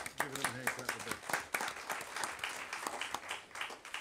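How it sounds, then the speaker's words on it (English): Applause at a school district board meeting welcoming returning students, a dense patter of hand claps from the room with a voice briefly speaking over the start. "So I'll start out by giving them a hand clap"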